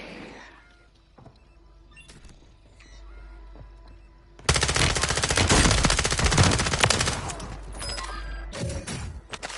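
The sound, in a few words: gunfire in Warzone video game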